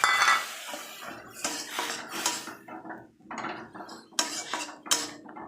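A utensil stirs and scrapes around a pan of oil-free Mourola fish curry with water, producing a series of close, irregular metallic clinks and scrapes with short pauses between them.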